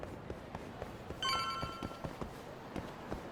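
A phone rings in the Judgement video game, a short electronic trill heard briefly over a backdrop of rhythmic game footsteps and ambient noise.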